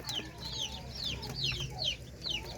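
Chicks and ducklings feed together, giving repeated high chirps and soft clucks at a moderate distance over a low background murmur.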